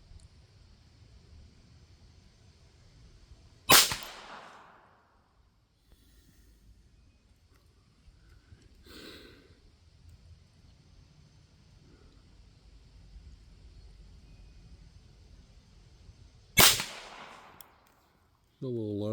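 Two sharp, loud shots from a Beretta Model 102 .22 LR pistol fired from a rest, spaced about thirteen seconds apart, each a crisp crack with a short ring-off and quiet ambience between.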